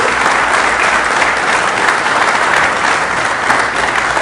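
Audience at an Ecuadorian political talk programme applauding the armed forces and national police: loud, dense, sustained clapping from a crowd, continuous and close throughout, with no one speaking.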